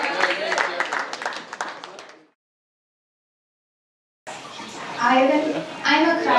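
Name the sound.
wedding guests applauding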